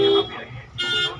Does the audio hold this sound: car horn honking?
yes